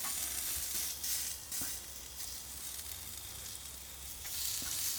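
Pulled pork quesadillas and peppers sizzle steadily on a Weber Q grill, a close, constant hiss and crackle with occasional small pops, with no talking over it.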